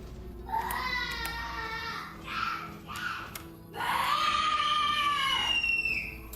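Children screaming at each other in a house: shrill, drawn-out yells in short bursts, the last one longest and loudest, heard from a little way off behind a video game's sound.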